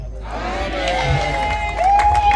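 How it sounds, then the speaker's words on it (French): Crowd cheering at a customary wedding celebration in Kinshasa, a short burst of shouts and ululating whoops rising over a background hum, moderately loud with a higher cry swelling near the end. "Merci pour vos acclamations, merci."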